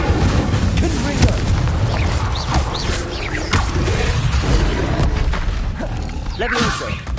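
Confringo spell explosions in Hogwarts Legacy, dense booming blasts and whooshing impacts from game combat, loud and continuous throughout.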